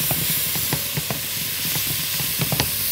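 Kofta meat with onion, salt, black pepper and seven-spice being stirred in an oiled pan, a steady loud sizzle with soft scraping stirs throughout.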